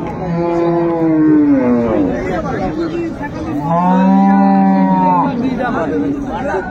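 At the Ambari cattle market in Dinajpur, a dairy cow and calf give two drawn-out moos, close and loud, over a steady murmur of crowd chatter.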